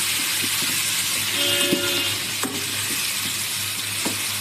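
Tomato pieces sizzle in a hot pan while onion and drumstick sambar is cooked Tamil Nadu style, with a steady frying hiss, a few soft stirring scrapes and light utensil clinks.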